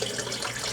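Water pours steadily into a Philips soup maker jug holding a vegetable mixture, a continuous close splashing stream lasting under a second with no talk.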